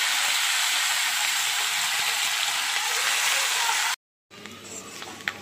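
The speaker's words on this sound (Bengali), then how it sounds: "এবার চুনা মাছগুলো আমি ভাজা করে নিচ্ছি" Small fish frying in hot oil in a wok make a loud, steady sizzle that cuts off abruptly, then returns more faintly with some clattering.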